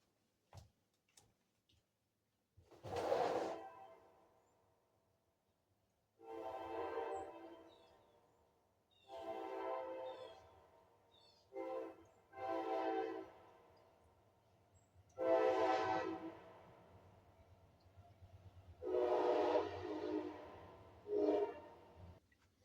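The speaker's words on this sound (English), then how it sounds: "I did hear a train." A train rolls past on a nearby track, heard as a string of broad, swelling bursts that rise and fade, the longest ones sounding like horn blasts, with quiet gaps between them.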